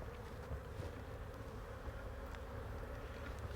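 Honeybees buzz around an open, active hive in a dense, continuous drone throughout, fairly close and faint, with no talk.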